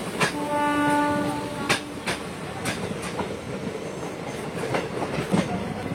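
A passenger train running out of Dibrugarh in Assam toward Archipathar station sounds a long steady horn blast near the start, followed by continuous rolling rumble and rhythmic wheel clacks, loud and close, with no talk.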